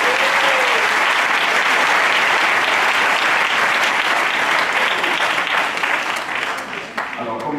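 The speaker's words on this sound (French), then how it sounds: "je voudrais qu'on acclame le Seigneur pour le faire." A church congregation at a pastors' assembly applauds loudly and continuously, a dense wash of clapping with a few voices mixed in, tapering slightly near the end.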